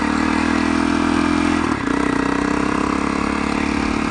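A powerful dirt bike engine runs steadily and loud up close, a continuous throaty idle with a brief dip in the middle before settling back.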